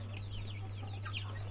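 Young Andijon breed chickens, hatched from an incubator and around three months old, cluck and chirp softly at close range over a steady low electrical hum.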